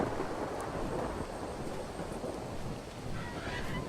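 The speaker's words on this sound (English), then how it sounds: "you can see there's a little bit of lightning and thunder, which might make it a little bit hard for you guys to hear me" Thunder rumbles with rain in a storm in the video game Ark: Survival Evolved, a continuous low, broad roll that stays dense and steady throughout.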